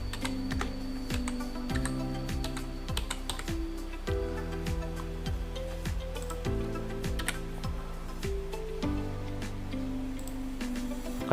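Rapid computer keyboard typing ends with a press of the enter key: steady, close key clicks run continuously over a sustained musical backing, with no voice.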